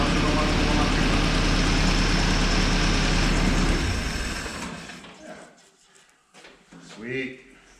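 A 1955 Jeep CJ5 engine runs at a loud, steady idle while warming up, then shuts off and fades, followed by a few quiet knocks and a short voice.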